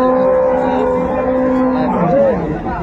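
A dairy cow moos at the Raniganj cattle market in Dinajpur, one long, loud, close low call with a falling end, over faint market chatter.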